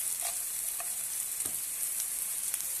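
Tomato and spices including turmeric and cumin powder fry in a pan with a steady, bright sizzle, broken by a few soft stirring scrapes; close and continuous, with no talking.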